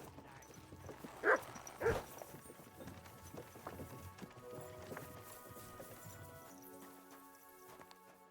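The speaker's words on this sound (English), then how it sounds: "Nice horses you have there." Steady clip-clop of horse hooves at a walking pace in the video game Kingdom Come: Deliverance II, preceded by two louder thumps, with faint ambient noise underneath.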